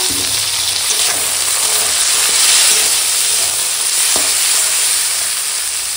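Chopped tomato and cut drumstick stalks frying in oil with onion and green chilli, a loud, steady sizzle with scraping stirring throughout and no talking.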